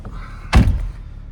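A car door being shut after it was left open during a demonstration of gesture control of a vehicle from a phone, one loud close thunk, alone with no talk.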